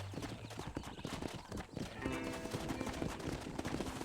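Horse hooves clip-clopping on a trail in the Red Dead Redemption video game, a steady close rhythm of hoofbeats with a brief whinny-like tone, over game ambience.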